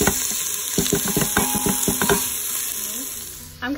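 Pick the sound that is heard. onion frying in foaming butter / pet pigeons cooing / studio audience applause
onion frying in foaming butter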